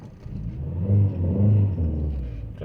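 A 1991 Toyota Sera with a factory five-speed manual accelerates in third gear, its engine giving a low, close-up rumbling drone that swells and holds, heard from inside the car without speech.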